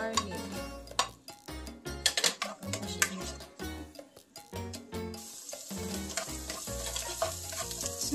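Chicken tinola ingredient hitting a little hot cooking oil, a steady sizzle rising after about five seconds, preceded by close clinks and scrapes of a pan and utensil.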